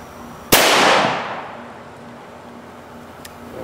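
A single sharp gunshot from a Smith & Wesson M&P 22 pistol firing CCI Stinger .22 rounds, loud and close, with a short decaying echo and a faint click a few seconds later.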